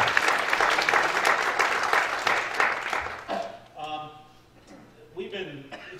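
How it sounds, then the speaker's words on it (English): A church congregation claps loudly and steadily for about three seconds during Sunday morning worship, then the applause fades as a voice begins talking over the dying clapping. "I think we need to applaud."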